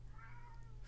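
A cat gives one drawn-out, plaintive meow, faint and somewhat distant against a steady low background hum.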